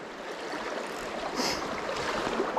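Rolling stream water about a foot and a half to two feet deep, a steady broadband rush and babble that holds close and fairly loud the whole time, with no voices.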